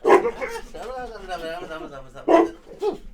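A female dog barks and whimpers in a couple of sharp bursts, with a voice talking and laughing over and between them, close and fairly loud.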